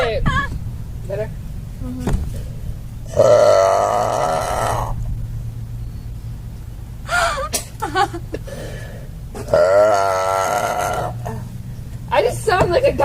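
A girl lets out loud, drawn-out belches, two strong bursts of roughly a second and a half each, close to the mic with chatter and laughter between them.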